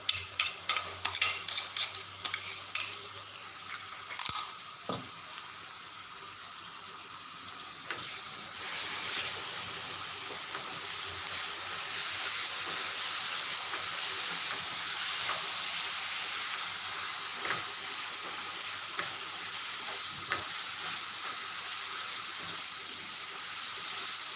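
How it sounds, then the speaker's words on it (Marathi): Ground masala with coconut frying in a pan for a village-style cowpea curry, several sharp stirring knocks at first, then a steady hissing sizzle that swells and holds with occasional spoon scrapes, close and without talk. "हा मसाला व्यवस्थितशीर परतवायचा"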